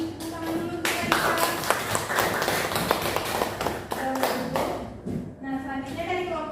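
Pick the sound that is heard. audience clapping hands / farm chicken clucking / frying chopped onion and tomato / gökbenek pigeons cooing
audience clapping hands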